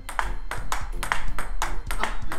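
A table tennis rally with a Hurricane King 3 racket, Tenergy 05 rubber on the backhand, gives crisp, close ball strikes about every half second in a steady back-and-forth rhythm.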